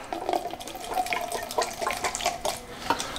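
Old household grease poured into a drain, a close, continuous splashing liquid trickle with small gurgles and clinks, no speech.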